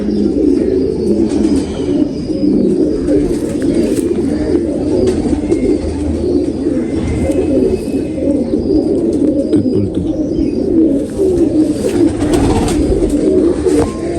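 Many pigeons cooing together in a dense, continuous murmur of low throaty calls, close by and steady throughout, with occasional faint chirps.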